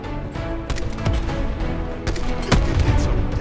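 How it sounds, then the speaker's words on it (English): Rapid gunfire in Call of Duty: Blackout, with dense bursts of overlapping shots cracking in quick succession, loud and close, over continuous background noise. "Yep, they're shooting at you."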